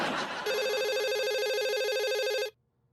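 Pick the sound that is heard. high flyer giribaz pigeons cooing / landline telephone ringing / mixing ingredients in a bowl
landline telephone ringing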